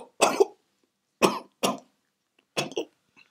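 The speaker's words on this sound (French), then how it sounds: "tu as cette toux depuis quelque temps" A man with a lingering, persistent cough hacks four times in short, harsh bursts, two of them doubled, separated by brief silences, close and clear with no speech.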